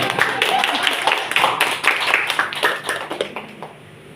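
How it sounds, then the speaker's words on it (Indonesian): Clapping from an audience of teachers at an education outreach session, a bright rippling patter of many hands that thins out and fades toward the end, with some voices mixed in. "Tepuk tangan dulu."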